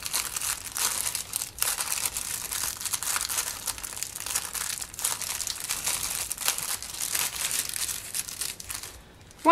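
Clay is kneaded inside a plastic bag, giving a steady, close crinkling and rustling of plastic that continues almost without pause, with faint soft pressing underneath.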